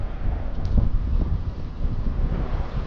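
Strong wind roars in steady gusts across the microphone outdoors during a fishing outing, with no other clear sounds.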